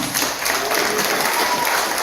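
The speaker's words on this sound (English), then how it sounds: "One more round of applause for all of our IOEs" A seated audience at a ceremony honouring champions gives a short, dense round of applause, steady and close, with a faint murmur of voices underneath.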